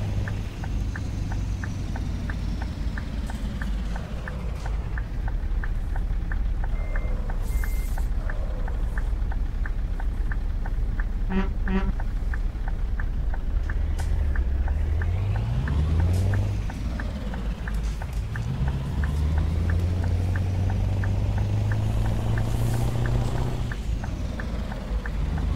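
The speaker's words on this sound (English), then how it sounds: "Truck sounds awesome, man." A Scania T Series truck engine in Euro Truck Simulator rumbles continuously, its pitch climbing and dropping as it revs and shifts, with a few faint clicks and taps along the way.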